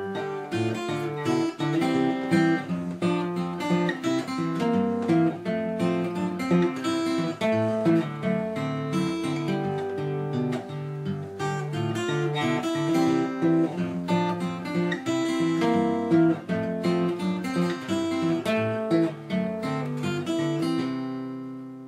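Blues fingerpicking on acoustic guitar, a steady alternating bass under a simple single-finger melody, with evenly plucked notes in a continuous rhythmic pattern, close and solo without talk.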